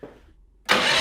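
A Tillotson kart engine on a monster truck kart, rear raised off the ground, catches after a quiet pause and bursts into a loud, steady close-up idle that runs to the end.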